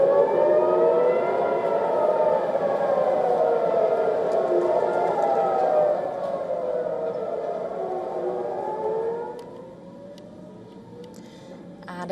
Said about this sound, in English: sirens also echoed across Tel Aviv overnight as authorities warned residents of possible Iranian strikes